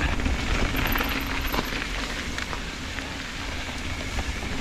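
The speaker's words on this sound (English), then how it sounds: "Just because it's raining" Rain falling on a double black mountain bike trail, a steady, even hiss of drops with no pauses, moderately loud and without talk.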